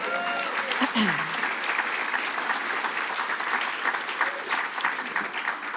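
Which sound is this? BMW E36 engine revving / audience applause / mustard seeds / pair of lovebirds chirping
audience applause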